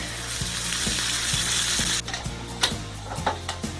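Bratwursts fry in a pan with a dense, steady sizzle, broken by regular faint clicks; partway through the hiss drops and turns into scattered crackles and pops.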